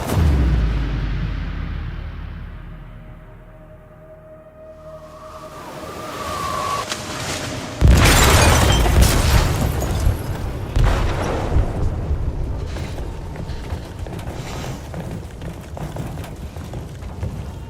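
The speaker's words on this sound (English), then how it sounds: "They detonated an explosive in the hold." An explosive goes off in a ship's hold in Detroit: Become Human: heavy rumbling builds, then a loud blast hits partway through, followed by sustained roaring, crashing debris and low booms.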